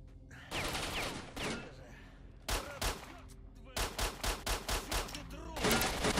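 Pistol gunfire in S.T.A.L.K.E.R.: Shadow of Chernobyl. Short groups of sharp shots ring out close and loud, with a rapid run of evenly spaced shots in the second half and ringing echoes between them.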